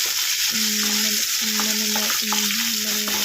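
Chopped onion frying in a pan for chilli paneer, a steady loud sizzle under repeated rhythmic stirring strokes with tonal scraping, roughly one stir per second.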